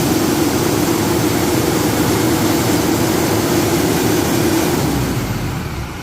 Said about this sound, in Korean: 우리 고객님 지금 시동 걸고 악셀 한번 밟아보고 계시는데요.